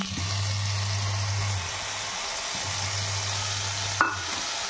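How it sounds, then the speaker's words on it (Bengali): Spice paste sizzles in hot oil for a fish curry, a constant crackling hiss up close with a low hum fading in and out and a sharp clatter near the end, no voices. "এই পেস্টটা করে এবার আমরা এটা তেলে দিয়ে দিলাম।"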